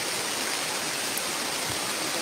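Rain falling steadily, a dense, even hiss of constant loudness with no talking.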